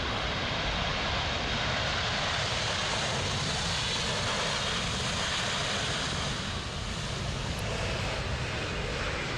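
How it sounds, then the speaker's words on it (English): An MD-11 airliner touches down hard on a slippery runway in a slight crosswind and roars under maximum reverse thrust, a loud, steady broadband engine rush that holds without a break throughout. "Immediately after touchdown, he deploys maximum reverses to slow down on a sleeper runway."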